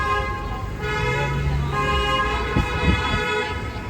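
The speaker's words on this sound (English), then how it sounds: "We got a honking war going on." Car horns honk back and forth in downtown Toronto street traffic between the Fashion District and Yonge and Dundas, sustained tonal blasts layered over steady road rumble, close and loud.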